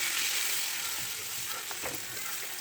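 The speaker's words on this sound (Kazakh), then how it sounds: "Енді сол қызанағымызды қызып тұрған табаға салып, қуырып аламыз." Tomatoes fry in a hot pan for a pizza topping, giving a steady, moderately close sizzling hiss with a few faint stirring scrapes and no talk.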